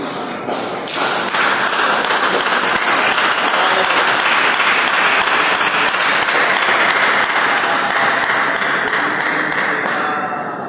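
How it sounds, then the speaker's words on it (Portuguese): Congregation at a church worship service applauding with joyful clapping, a dense, loud, steady roar of many hands that rises sharply after a brief opening and holds for about ten seconds. "dê uma salva de palmas para Jesus com alegria"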